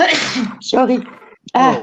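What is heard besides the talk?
sneeze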